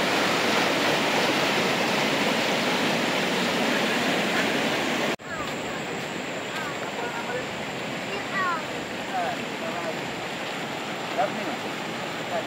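A river in a village setting rushing steadily, a dense broad roar close by that drops slightly after a sharp break midway, with faint birdlike chirps and brief voices over the continuous flow.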